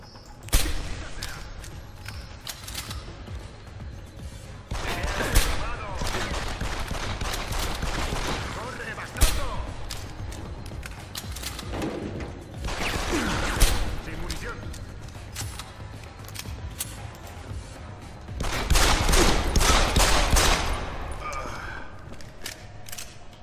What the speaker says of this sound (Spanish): ¡Es la hora de los tiros!